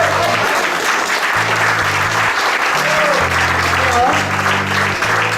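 Steady, dense audience clapping at an award ceremony for a tourism medal, loud and close throughout, with a repeating low musical tone running underneath.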